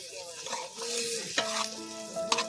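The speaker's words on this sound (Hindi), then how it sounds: "अभी इसको मिक्स कर रहे हैं देखो" Potatoes stirred through a sizzling frying mixture in a pan, a steady hiss of frying with scraping stirs and a couple of sharper knocks, close and continuous with no voices.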